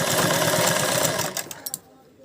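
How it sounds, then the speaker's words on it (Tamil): A sewing machine stitches fabric with a loud, rapid, steady mechanical whirr that runs for over a second, then stops, followed by a few sharp clicks and near quiet. "பாருங்கள், தைக்கிறேன் பாருங்கள்."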